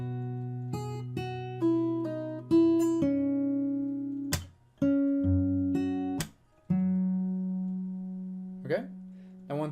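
A fingerstyle acoustic guitar plays a section of a song arrangement: close, clear plucked notes and chords broken by sharp percussive slaps on the strings, ending on a held low note.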